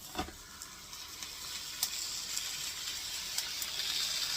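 Peach waffle batter sizzling inside a closed waffle iron, a steady hissing fry with a few soft pops and clicks, close and moderately loud, without talking.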